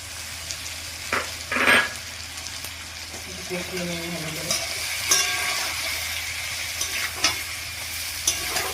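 Pre-fried cauliflower pieces go into a sizzling tangra fish curry, with a steady frying hiss broken by a few louder scraping stirs and splashes. Faint voices sit in the background.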